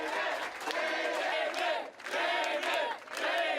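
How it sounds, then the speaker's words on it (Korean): A crowd bursts into cheering and whooping at an election-night victory party for a city council candidate, with two loud swells of shouting voices that briefly dip between them. "데이빗 류 후보의 리드가 좁혀지지 않고 승리가 결정되는 순간 여기저기서 기쁨의 환호성이 터져나왔습니다."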